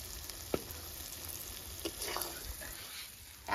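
Spice paste fries in released oil for a river rita fish curry, a quiet continuous sizzle punctuated by a few light scraping clicks of a spoon stirring the pan.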